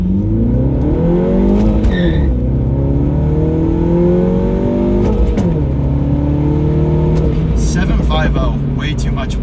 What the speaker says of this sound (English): way too much wheel spin